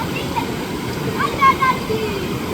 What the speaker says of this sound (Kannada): ಗ್ಯಾಪಲ್ಲಿ ನೋಡಿ ಎಷ್ಟು ನೀರು ಬಂತು ನೋಡಿ.